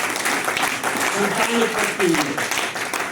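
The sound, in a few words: audience applause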